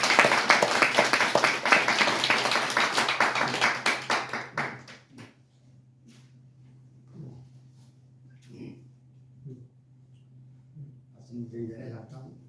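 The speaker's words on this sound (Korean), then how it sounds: "우리 박수로 맞이해 주시죠" A church congregation claps to welcome the pastor, a dense burst of applause lasting about four seconds before fading to scattered claps over a steady low hum, with voices murmuring faintly afterward.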